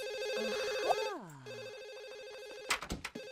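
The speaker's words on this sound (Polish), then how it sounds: "Idź, biegnij odebrać telefon." A telephone rings in The Sims video game, a repeated electronic ring with a sliding tone, followed by a few sharp clicks near the end.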